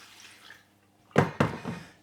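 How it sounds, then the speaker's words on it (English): Water is poured into a Ninja Foodi pressure cooker fitted with a basket: after a quiet pause, two or three short, close splashing gushes follow in quick succession. "I'll add some water."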